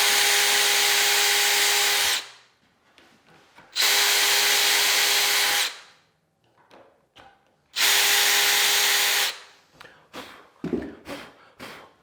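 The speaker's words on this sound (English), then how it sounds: "what I want to do now is cut all of the holes for the screws" A power drill bores screw holes for closet French door hinges in three loud, sustained whining bursts of about two seconds each, separated by quiet handling clicks and knocks.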